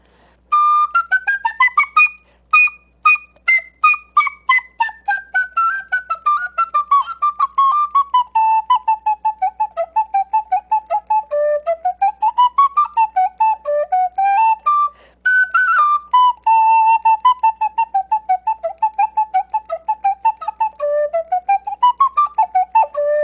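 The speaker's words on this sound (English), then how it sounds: "In a sense, a step up from the penny whistles, but they're basically like a penny whistle." Sweet, pure-toned whistle similar to a penny whistle, playing a lively melody of many quick, rhythmically tongued notes that glide up and down, loud and close, alone without any talk.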